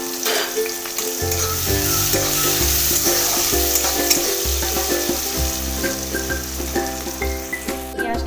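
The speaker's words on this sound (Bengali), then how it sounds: "তেলের ওপর যে পেঁয়াজ কুচিটা ছিল সেটা আমি দিয়ে দিলাম। ভালো করে পেঁয়াজটা ভাজবো।" Chopped onions sizzle and fry steadily in hot oil for a fish curry, a dense close crackle running throughout with low stirring knocks and no voices.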